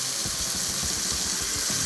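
Water poured into a pan of frying keema (minced meat with spices) releases a steady, loud hiss and sizzle that lasts throughout, with no voices.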